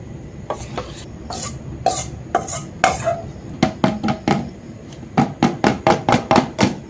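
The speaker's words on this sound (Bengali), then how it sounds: "এবারে ওই ইনো দিয়ে ব্যাটারটা গুলে নেওয়া দিয়ে দিচ্ছি" Semolina batter being whisked with Eno in a bowl: a run of sharp, rhythmic scraping and tapping strokes of a utensil against the bowl, close and fairly loud, with short pauses between bursts and no talk.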